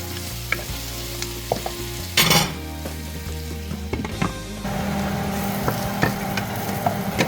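Onions browning in oil in a covered pan for chicken biryani give a steady close sizzle, broken by a few sharp clatters and one loud burst of spatter a couple of seconds in.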